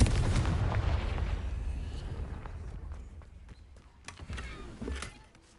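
Confringo fire spell blast in Hogwarts Legacy, a loud booming burst that rumbles and fades into crackling debris, with smaller impacts following.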